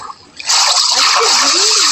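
Flowing water in Minecraft rushes in suddenly after a quiet start, a loud steady gushing wash that fills the rest of the moment with no speech.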